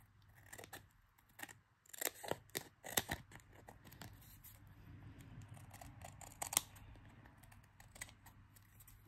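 Scissors snip along the edge of a sheet of 12x12 craft paper, a string of sharp, close crisp cuts in uneven bursts with short pauses between them.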